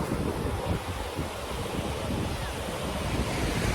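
Continuous roar of sea waves washing onto a shore, steady and fairly loud, mixed with wind buffeting the microphone; no talking.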